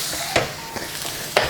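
Vegetables shifted and flipped on a hot electric contact grill, giving a few short scraping clatters at irregular spacing over a steady soft sizzle, close and fairly clear, with no talk.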